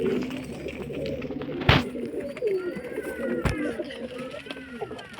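Pigeons and their chicks in coops, with soft cooing and bird calls close by under ongoing talk, plus a couple of sharp knocks.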